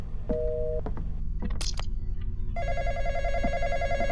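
A telephone in the Roblox horror game The Intruder gives short ringing tones, then a sustained electronic ring under a low ambient hum, with a few faint clicks between.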